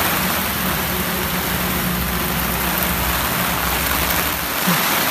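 Heavy rain pours onto a street outside a roadside shop, making a loud, steady, unbroken hiss throughout, with a low engine-like rumble underneath.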